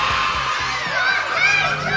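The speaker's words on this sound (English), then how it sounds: "let's have a big cheer for the Sex Pistols" A crowd at a 1977 Sex Pistols Christmas party cheers and whoops, a loud wash of shouting and high screaming voices that swells near the end, with rhythmic thumping underneath.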